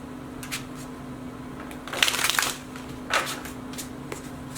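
A deck of tarot cards is shuffled in a quiet room: a few soft riffling bursts, the loudest and longest around the middle, close by and fairly faint, with no talking.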